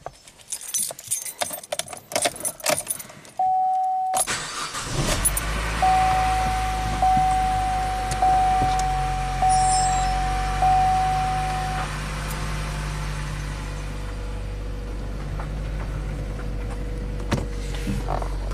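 Keys jangle and a brief electric whirr come first, then a Chevy Cruze that runs rough and rich starts up and settles into a steady, low idle drone that continues to the end.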